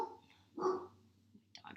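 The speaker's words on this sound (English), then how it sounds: "dog's freaking out." A dog gives a single short burst of barking midway through, moderately loud against a quiet indoor background, with soft voices faintly heard near the end.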